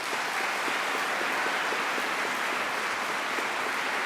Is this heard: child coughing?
no